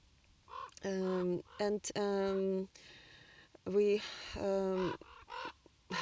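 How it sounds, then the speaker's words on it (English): Birds calling overhead, harsh repeated cawing and honking cries in short bursts, with a voice speaking briefly in between. "there are birds flying above."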